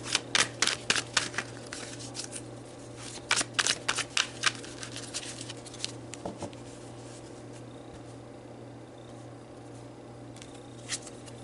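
Tarot cards being shuffled by hand in a quiet room, short papery riffles and flicks coming in bursts with pauses between, close and fairly soft, no voices.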